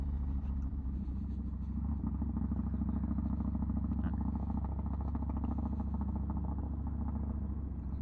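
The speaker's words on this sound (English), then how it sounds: "there's 2 bikes there" Motorcycles and cars pass along a rough hill road, a steady low engine rumble with clattering mechanical texture holding throughout at moderate distance, with faint voices now and then.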